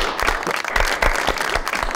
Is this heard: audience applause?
yes